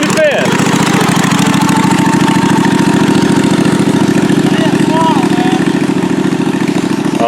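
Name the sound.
Murray mower engine idling in fifth gear, no throttle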